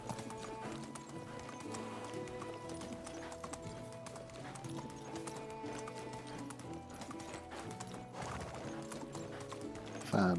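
Horse hooves clip-clop steadily in a video game, a continuous quick trotting rhythm with creaking tack layered over a soft tonal music bed, close and moderately quiet, with no voices.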